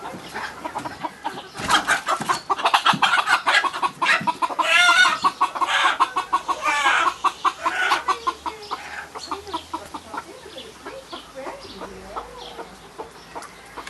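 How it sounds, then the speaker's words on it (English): Hens clucking and squawking busily in a hen house, a dense overlapping chorus that is loud at first and settles to scattered clucks. "I can already hear some noise in the hen house"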